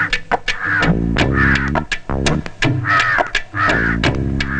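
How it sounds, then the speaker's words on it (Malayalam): Crows caw loudly and close in a quick, repeated run of harsh calls. The calls come in bursts over about four seconds, with no talk between them. "ആ, കാക്കേ. അത് എവിടെങ്കിലും ഇരുന്ന് കരയട്ടെ"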